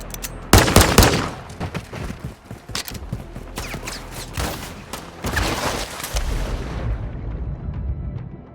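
Gunfire in Call of Duty Modern Warfare 2: loud, dense bursts of automatic weapons with booming impacts and rumbling battle noise, sustained and close throughout.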